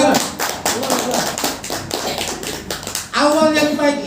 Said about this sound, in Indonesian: Kita aplaus untuk itu.